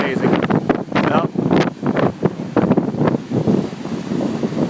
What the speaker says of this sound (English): hey, look at these waves